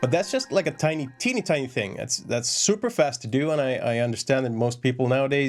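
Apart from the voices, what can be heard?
No everyday noises stand out.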